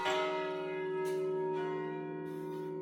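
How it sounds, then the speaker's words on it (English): A church bell, one of a 25-bell chromatically tuned set, rings with a sustained, rich metallic tone, its long resonant hum decaying slowly as fainter strikes sound in the background. "these bells as they ring every 15 minutes except at night"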